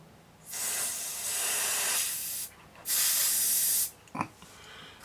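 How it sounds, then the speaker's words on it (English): Cleaner spray hisses from an aerosol can into the record switch of a Dansette Automix record player, in two long bursts with a brief gap between them, followed by a short clatter. "Right, spray the record switch."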